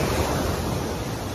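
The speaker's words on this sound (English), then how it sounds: "Beach is loud today." Steady, loud roar of ocean surf breaking on a beach, a dense continuous wash with some wind buffeting, close by and with no voices.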